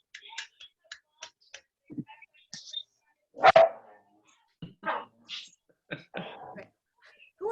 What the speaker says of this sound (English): The barking dogs in the background, Rich?